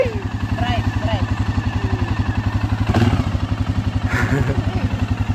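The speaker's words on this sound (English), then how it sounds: "Why don't you drive, Michelle?" A four-wheeler ATV engine chugs in a fast, even rhythm close by while it drives along, with people talking and encouraging a small child over it.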